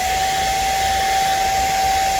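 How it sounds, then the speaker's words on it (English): A hair dryer runs continuously nearby, a loud steady whoosh of air with a constant whining hum. "let's see if I can use my hairdryer and not blow the circuit"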